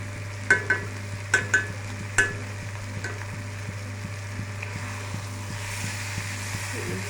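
Chicken pieces coated with chili powder, salt and turmeric stir-fried in oil in a pan, with a few sharp utensil scrapes early on over a steady low sizzle and background hum.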